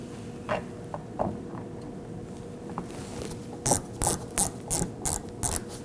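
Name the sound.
ratchet tightening T15 Torx screw on car panel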